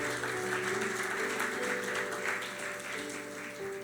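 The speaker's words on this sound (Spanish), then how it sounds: "Pueden aplaudir." A church congregation applauds together at a devotional gathering, steady sustained clapping filling the room for several seconds with no clear voices on top.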